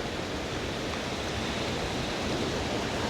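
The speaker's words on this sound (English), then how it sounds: "photographing the waves as they come crashing in" Surf rolling onto rocks at Talisker Bay, a steady, dense broadband roar that fills the clip without pause, close and loud, with no voices.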